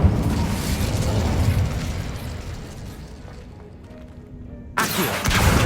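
A fire spell cast with a wand in Hogwarts Legacy, loud dense roaring burst of flame and crackle that slowly fades, then a fresh blast erupts near the end, no voice over it.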